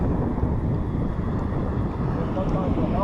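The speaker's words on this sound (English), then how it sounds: "That freaking wind really messes you up when you cast." Wind gusting across a pond during fishing, a steady broadband rumble and buffeting on the microphone throughout, with faint voices under it.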